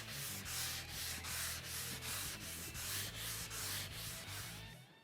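A sanding block works primer and guide coat on a car body panel in steady, even long strokes, roughly two per second, a close, soft abrasive rasp alone over a low background hum.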